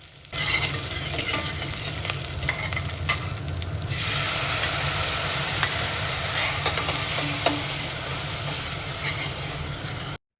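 Garlic and green chilli with cumin fry in mustard oil, giving a close, steady sizzle and crackle with occasional stirring scrapes throughout.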